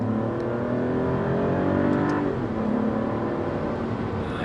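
An Alfa Romeo Giulia Quadrifoglio engine revs hard and close, with a deep, throaty rumble that rises in pitch and then drops back, continuous throughout.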